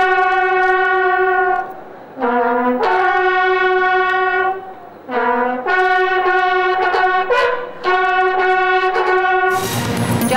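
A train on the Dhaka–Chittagong line, sent out as a relief train after a derailment, sounds its horn in a series of long and short blasts with a clear multi-tone pitch, loud and close with no talk over it.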